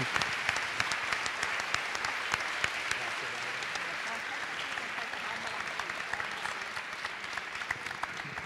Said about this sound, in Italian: il vero applauso è per voi